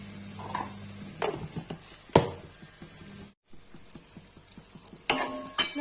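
Masala fries in a pan with a low sizzle. A spoon scrapes and clatters against the metal in irregular strokes, with a few sharp knocks and one short pause.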